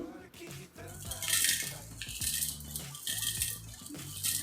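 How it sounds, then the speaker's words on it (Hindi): Hard lumps of rock sugar (mishri) clatter into a grinding jar already holding mango pieces, a fast run of clinks and rattles close by, with no talking. "चलिए इसके बाद इसमें मैं डाल दूंगी मिश्री।"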